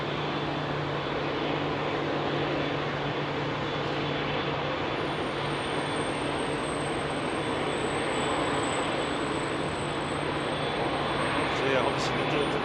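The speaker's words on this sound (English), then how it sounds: "there's one of the EKs landing" An Emirates jet airliner landing at Heathrow in fog: a broad, steady engine roar sustained at even loudness, with a faint high whine above it and brief clicks near the end.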